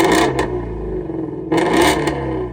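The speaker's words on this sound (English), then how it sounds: "because of that, it's one of the best sounding engines Ford has ever made." A Ford Shelby GT350R's 5.2-liter naturally aspirated flat-plane-crank V8 revs loudly and up close in two sharp bursts, snarling high and then dropping back to a rumbling idle between them.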